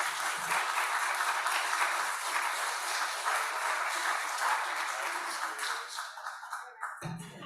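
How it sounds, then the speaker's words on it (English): Audience applause at a Boulder Rotary meeting, a dense, steady wash of clapping from a room of people that runs loud for about seven seconds before cutting off abruptly. "Applause for Arlie."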